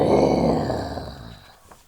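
A storyteller's voice imitates a lion's roar with a loud, throaty growl that starts strong and gradually fades out over about two seconds.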